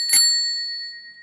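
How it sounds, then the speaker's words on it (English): A single bright ding from a bicycle bell, struck once and left to ring with a clear metallic tone that slowly fades, close and loud, with no other sound. "it will make the noise of a bicycle bell"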